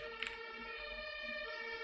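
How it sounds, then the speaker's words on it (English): An emergency siren sounds outside, a steady wailing tone at moderate distance, faint and continuous throughout with no voices. "But the siren."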